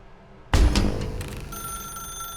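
An electronic telephone ring in The Stanley Parable: Ultra Deluxe, starting abruptly after a half-second hush and then holding a steady, ringing tone with no talk over it.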